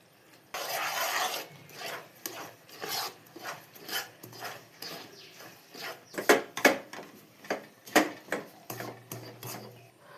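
Rice flour stirred into hot sugar syrup for laddu gives a run of rough, rasping strokes against the pot. They come in a quick uneven rhythm, growing firmer and more clattery toward the end, with no talking.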